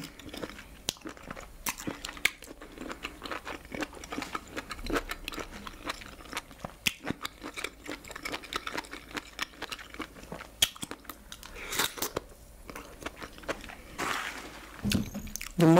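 Close, quiet mukbang chewing of mushroom alongside fufu and vegetable soup, with irregular soft crunches, bites and wet mouth sounds scattered throughout, no talking.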